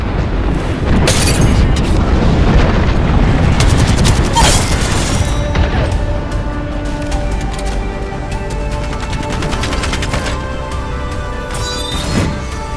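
An artillery ultimate bombardment in the shooter game Apex Legends: a long, loud barrage of heavy booms and rapid blasts that rolls on continuously, thins out midway, then ends with a few scattered explosions and sharp cracks.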